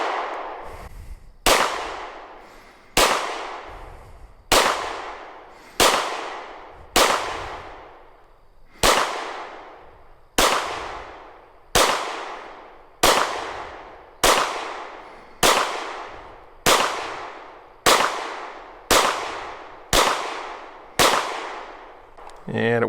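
A Masada pistol is fired one-handed, about sixteen single shots spaced evenly at roughly one-second intervals, each a sharp crack that rings out and fades slowly before the next.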